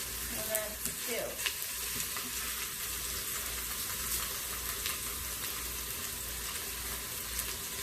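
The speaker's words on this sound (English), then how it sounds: "I think I can fit about 2 pork chops in at a time for searing" Two pork chops searing in a pan give a steady, bright sizzle and crackle with occasional small pops, continuous and close.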